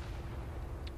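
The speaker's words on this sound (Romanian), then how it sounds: "mamă, explozia asta" A deep, rumbling explosion from the war shooter Spec Ops: The Line, a sustained low boom filling the whole moment, fairly quiet overall and with no voices over it.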